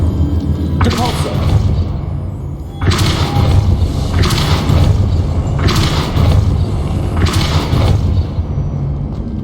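Repeated Depulso spell casts in Hogwarts Legacy, about five loud whooshing bursts over a deep rumbling game soundscape, spaced roughly every second or so.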